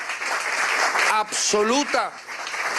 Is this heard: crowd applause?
yes